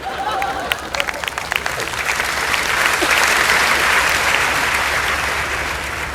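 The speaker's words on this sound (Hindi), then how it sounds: "आप जोरदार तालियां बजाकर उनका स्वागत करें" Loud, sustained applause from a large audience at a Hindi poetry recital, welcoming a poet to the stage, steady and dense throughout with a faint voice near the start.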